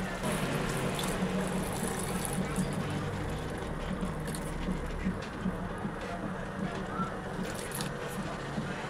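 Milk poured steadily into a pan of bottle gourd halwa over a low gas flame, a continuous soft liquid rush and trickle lasting several seconds.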